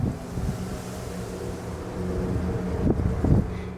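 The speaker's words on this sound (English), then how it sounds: "It is very windy out" Strong wind blows outdoors, rumbling and buffeting the microphone in a low, continuous roar with a couple of heavier gusts near the end; nobody speaks.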